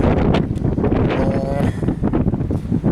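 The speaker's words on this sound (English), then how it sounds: "I'm trying to shield this as much as I can. It is windy up here." Gusty wind on open moorland buffets the microphone with loud, uneven rumbling blasts and rustling that rise and fall throughout, close and dominating, with no clear speech.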